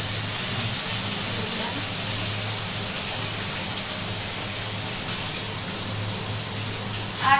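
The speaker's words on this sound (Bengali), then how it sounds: "বেলে মাছটা কিন্তু কড়া ভাজবে না, হালকা ভাজবে।" Sand goby fish fry lightly in a pan, giving a steady, even sizzling hiss that fills the whole stretch, with a voice faintly in the background.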